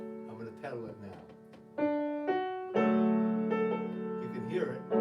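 Kumbaya played on piano in D with the sustain pedal down, slow chords and single notes ringing on and blending together, clear and close with no talking.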